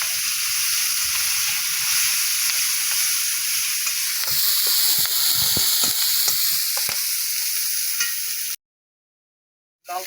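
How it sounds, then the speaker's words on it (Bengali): Garlic sizzling in hot oil in a wok: a loud, constant frying hiss with bursts of spatula scraping midway, then an abrupt cut to silence near the end. "আর রসুন দিলাম"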